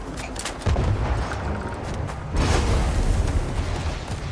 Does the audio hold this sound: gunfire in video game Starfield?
yes